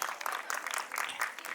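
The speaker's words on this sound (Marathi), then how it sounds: "जोरदार टाळ्या झाल्या पाहिजेत आपल्या शिवकन्या मंगळागौर ग्रुप यांच्यासाठी" Applause for the Shivkanya Mangalagaur group at a Mangalagaur celebration, a steady, fairly close patter of many hands clapping without pause for the whole short stretch.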